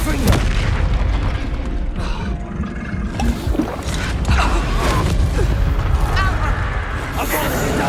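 A Confringo fire spell bursts in a Hogwarts Legacy battle, with booming blasts, creaks and mechanical clatter over game music, while a player talks throughout.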